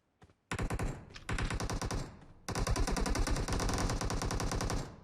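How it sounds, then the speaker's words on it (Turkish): Sustained machine gun fire in a video game match, loud and close, with dense rapid bursts that pause briefly, then resume and keep going nearly nonstop to the end. "Bir yerden daha sıkıyorlar."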